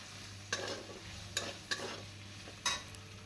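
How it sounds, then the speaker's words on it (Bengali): Onion with ginger-garlic paste frying and being stirred in a pan for soyabean do-pyaza, a low soft sizzle broken by four sharp scraping clacks of the spatula, fairly quiet. "পেঁয়াজের সাথে খুব ভালো করে এটাকে মিশিয়ে নেব, বেশ ভালো করে ভাজা ভাজা করে নিই"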